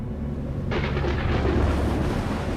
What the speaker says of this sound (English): Then the storm slams into Half Dome. It unleashes its full force over the great rock.